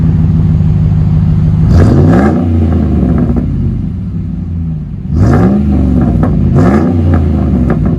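A 2005 Dodge Ram with the 5.7L HEMI V8 and a Flowmaster Flow FX dual exhaust rumbles deeply at idle, nearby and loud. Three sharp throttle revs swell and fall back, one early and two close together near the end.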